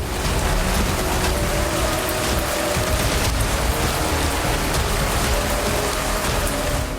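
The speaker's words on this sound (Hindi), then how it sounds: "अचानक तेजी से बरसात होने लगी।" Heavy rain pours down outdoors in the forest where Lord Rama is said to have spent his exile, a loud steady roaring hiss with no pauses and no voices.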